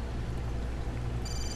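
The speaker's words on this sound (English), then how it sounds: "Oh, another phone call." A telephone rings in the Assassin's Creed video game, a faint tone sounding briefly over a low droning background with no talk.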